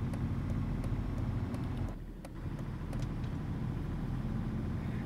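Interior cab noise of a DAF truck cruising in Euro Truck Simulator 2, a steady low engine rumble and road drone with faint ticking, briefly dipping before resuming at an even level.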